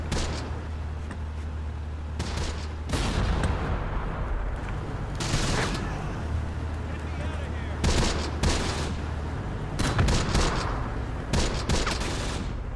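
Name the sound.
tank and machine gun fire in video game Close Combat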